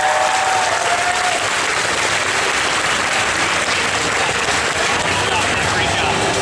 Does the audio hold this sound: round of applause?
yes